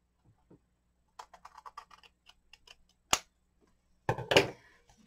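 Scissors trimming paper in a handmade journal: light scattered clicks and taps, then a sharp crisp snip and a louder rustling cut near the end, close and alone.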